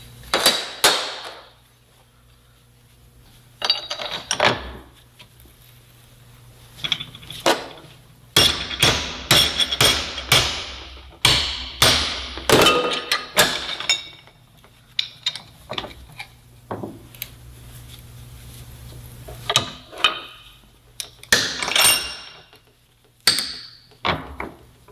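Hammers bang on a brazed metal sample clamped in a vise, with sharp ringing metallic blows in irregular bursts and clusters, loud and close, plus some rattling and clanking between strikes.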